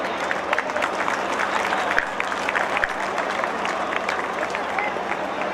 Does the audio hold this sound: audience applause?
yes